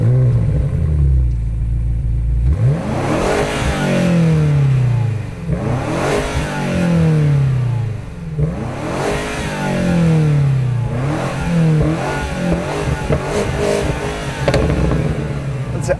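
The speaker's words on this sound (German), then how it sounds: "Das Auto wackelt mit, wenn man hier Gas gibt." A BMW M5 G90 or Audi RS7 sports car revved while stationary, loud repeated throttle blips that climb and fall in roughly four surges after a short idle, close and alone with no talk.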